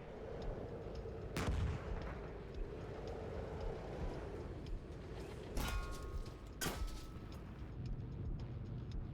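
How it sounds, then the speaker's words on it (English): Heavy weapons fire in a modern military video game, a TOW missile launch among the shots, comes as a few sharp, loud booms over a constant low rumble of battle, with no talk. "oh, that's a tow missile too"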